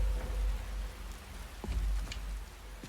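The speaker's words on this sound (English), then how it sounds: "The ground begins to steam as the rain passes." Steady rain in the open world of the video game Skyrim, a continuous soft hiss of falling drops with a few faint low rumbles and scattered brief taps, fairly quiet throughout.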